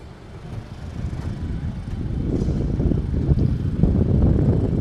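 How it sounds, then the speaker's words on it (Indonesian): A Probowangi passenger train pulling out of Probolinggo station, with a farmer carriage up front and an economy coach behind, rumbles low and steady, its rolling noise swelling gradually as it gathers pace nearby. "kereta api Propowangi udah berangkat dari stasiun Probolinggo"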